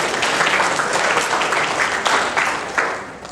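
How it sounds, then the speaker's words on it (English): An audience applauding at a lottery draft event, loud sustained clapping from a sizable crowd filling the whole stretch with a few sharper claps standing out near the end. "we'll just give him a round of applause while he's out"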